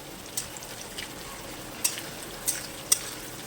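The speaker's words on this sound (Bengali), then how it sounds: "এবারে দিয়ে দেবো পেঁয়াজ কুচি কাঁচা লঙ্কা কুচি পেঁয়াজটাকে ভেজে নেব" Chopped onion and green chilli fry in oil in a pan with a faint, steady sizzle, broken by a few light clicks from a stirring utensil. No one speaks.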